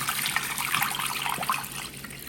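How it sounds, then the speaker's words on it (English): Turkey brine pours over meat in a steady, close splashing trickle with no voices, continuing throughout before easing slightly at the end. "So we're going to go ahead and pour this over our meat."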